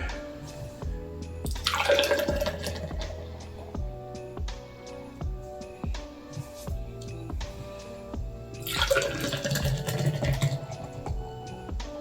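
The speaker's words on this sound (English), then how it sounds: "So we'll go ahead and give this one a pour." Unfiltered craft beer pouring into a glass, two gurgling, splashing surges of liquid with clinks and small knocks between them, close and fairly quiet.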